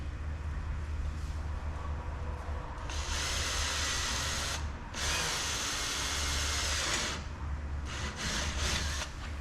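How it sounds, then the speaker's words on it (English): A power drill whirs in two long bursts with a short pause between, then a few quick stuttering pulses at the end, close by. "So we'll just drill our hole here quick."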